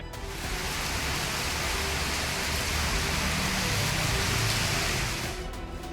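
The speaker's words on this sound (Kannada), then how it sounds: "ಸಂಜೆಯಿಂದ ಮತ್ತೆ ಮಳೆ ಆರ್ಭಟಿಸಿದೆ" Heavy evening rain pouring down in Bengaluru during a windy storm, a dense steady hiss of downpour on surfaces that holds at full, even loudness from start to end, with no voices over it.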